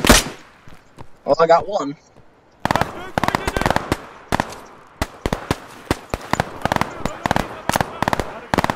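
Old rifle fire in a World War era shooter video game, a brief spoken remark first, then a long run of sharp, loud cracking shots in uneven bursts with short gaps between them.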